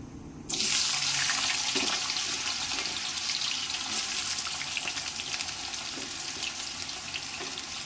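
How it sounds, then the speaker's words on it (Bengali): Potatoes dropped into hot oil with cumin seeds burst into a loud, dense sizzle that starts abruptly and holds steady, close by, with faint clinks beneath and no voices. "আমি তেলের মধ্যে কয়েকটা জিরে দিয়ে দিলাম, আর দেব আলু। আলুগুলোকে আমি ভালো করে ভেজে নেব।"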